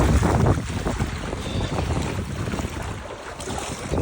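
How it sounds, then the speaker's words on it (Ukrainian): Strong wind roars across the microphone on a boat during a fishing trip, a steady gusty rush with low buffeting and some water sounds beneath, and no talking. "вітер."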